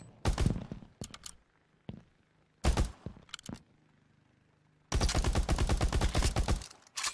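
Bursts of rapid automatic gunfire in the Mini Royale battle royale video game, two short volleys early on, then a loud sustained stream of shots near the end, with quiet gaps between.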